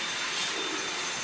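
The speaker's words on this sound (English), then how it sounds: "She's probably still vacuuming." A Dyson vacuum cleaner runs with a steady, loud, high-pitched whooshing whine, continuous and close, with no talking.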